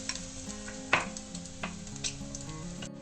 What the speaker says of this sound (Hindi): यहाँ पर तेल गरम हो गया है, इसको हमें डीप फ्राई करना है,